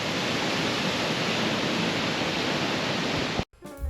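A dense, roaring rush of falling water fills the air continuously at close range, cutting off abruptly near the end. Christine Falls, a 69-foot multi-tiered waterfall in Mount Rainier National Park, heard from Christine Falls Bridge.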